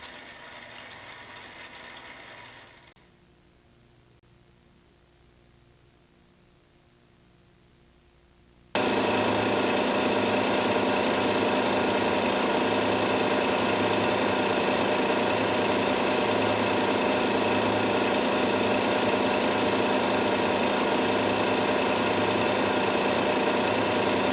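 A test rig shaft runs dry on a nickel-impregnated grade 111.3 Graphalloy bearing at 150 psi, starting with a quieter hum and dropping briefly before a loud, steady broadband whir with a pulsing low drone sets in and holds.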